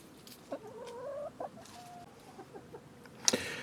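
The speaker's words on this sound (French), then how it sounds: "Alors, j'ai des poules de luxe." Sussex and naked-neck hens clucking nearby in a henhouse in short, tonal bursts, with a louder squawk near the end over a soft background.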